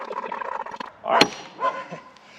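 Rescue dogs bark and yip in short, close, excited bursts at a homestead where cedar logs are being split, a couple of yelps rising over a messy background.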